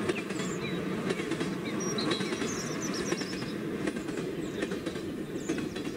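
A train rolls along the rails with a steady, heavy rumble, rhythmic clatter and thin metallic squeals from the wheels.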